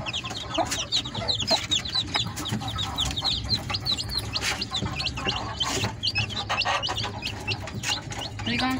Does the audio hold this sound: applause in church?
no